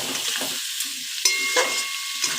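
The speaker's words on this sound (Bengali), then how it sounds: "ভালো করে ভাজা করে নেব।" Beans and capsicum frying in a pan, a steady soft sizzle broken by repeated scraping stirs at irregular intervals, close and moderately quiet with no talking.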